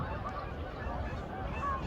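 A flock of geese honking as they fly upriver, a dense continuous clamor of overlapping calls at moderate distance.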